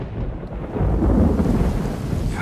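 Thunder from a TV drama scene rumbles steadily through the whole stretch, swelling in the middle, with a dense wash of heavy rain underneath and no voices.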